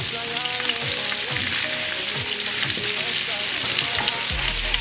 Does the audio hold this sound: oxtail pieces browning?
yes